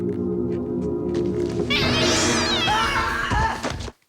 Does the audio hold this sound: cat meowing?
yes